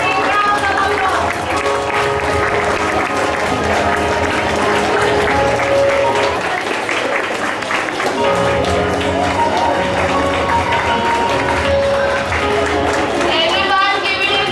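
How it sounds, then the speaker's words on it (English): A school assembly audience of students applauds loudly and continuously, dense clapping running for about fifteen seconds, mixed with music-like tones and crowd noise. "And a big round of applause, everyone."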